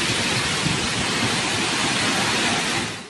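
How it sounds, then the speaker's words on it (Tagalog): Strong wind and heavy, unceasing rain from Super Typhoon Pepito, a dense, roaring wash of downpour and gusts filling the whole span at steady loudness, with no voices. "Malakas na hangin na sinabayan ng walang tigil na buhos ng ulan."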